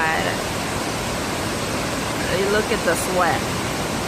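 Steady broadband roar of a waterfall at Cummins Falls, constant and close, with a person speaking briefly over the rushing water.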